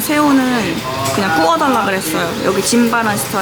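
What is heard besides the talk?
No distinct noise like a dog, phone or traffic.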